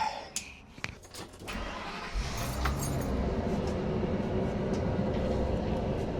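An RV engine starts with a few clicks and a jangle of keys, then catches and settles into a steady running rumble as the rig pulls away on a mountain road, with no talking.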